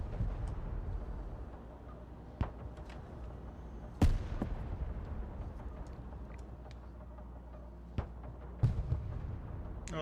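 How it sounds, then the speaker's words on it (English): Mortar fire in the military video game Broken Arrow: several distant booming thumps spaced seconds apart over a low battlefield rumble, one blast louder than the rest. "Oh, there's some mortars right there."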